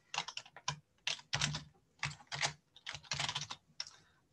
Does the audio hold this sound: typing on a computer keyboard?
yes